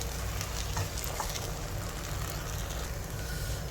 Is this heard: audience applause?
no